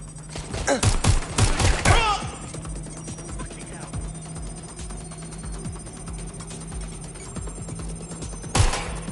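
Bursts of gunfire in Watch Dogs: Legion, a few rapid close volleys early on, then quieter ambience and one more sharp shot near the end, with voices talking over it.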